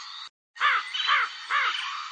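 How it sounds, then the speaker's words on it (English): A black crow caws three times in a steady rhythm, each caw a clear, close, nasal call standing alone over faint background hiss. "The crow is a bird of black color."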